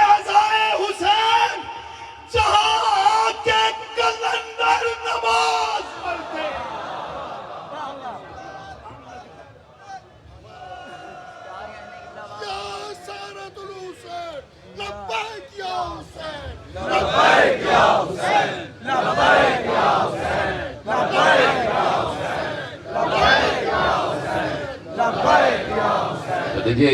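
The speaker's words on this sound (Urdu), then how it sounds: "دیکھیے یہ لبیک یا حسین کے نعرے یقیناً امام حسین علیہ السلام تک پہنچتے ہیں" At a Muharram majlis, a large crowd chants Labbaik ya Hussain in loud, rhythmic, repeated shouts that swell in the second half, after a man's amplified speech at the start.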